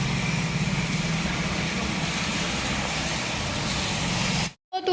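Cars and motorbikes pass along a wet road in the rain, a continuous low traffic rumble with engine drone that cuts off abruptly near the end.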